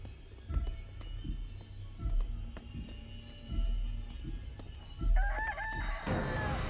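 A giant chicken in the game Chicken Feet: Breakout DLC crows loudly near the end, after a run of low thudding footsteps and game sounds, with no speech.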